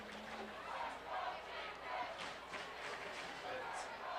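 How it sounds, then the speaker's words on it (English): High school football crowd at a Utica Chieftains game against the Roseville Panthers chanting "let's go Chieftains", rhythmic massed voices rising and falling in repeated waves, fairly distant and diffuse across the stands. "let's go Chieftain roars through the crowd"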